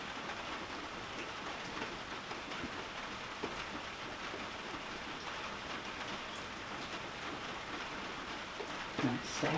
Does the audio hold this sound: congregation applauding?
no